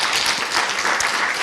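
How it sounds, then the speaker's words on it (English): Audience applause at the closing of an expert and member meeting on migration and drug use, a dense, steady wash of clapping throughout, loud and continuous with no talk. "Big round of applause."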